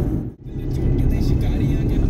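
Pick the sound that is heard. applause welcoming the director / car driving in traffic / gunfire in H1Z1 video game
car driving in traffic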